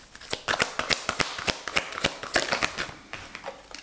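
Tarot cards drawn from a deck and laid out on a table, a quick series of close, crisp card snaps and slaps in an uneven rhythm, with no one talking.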